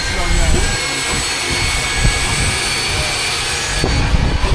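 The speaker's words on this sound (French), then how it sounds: "Allez, on prend l'avion" Steady broadband roar of a light aircraft's engine climbing toward 3000 metres for a skydiving jump, loud and constant from the cabin, with voices talking over it.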